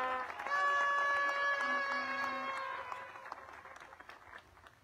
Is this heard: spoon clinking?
no